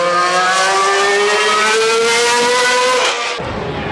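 A classic racing car engine roars past at close range at the Goodwood Festival of Speed, its pitch rising steadily and then dropping off sharply near the end.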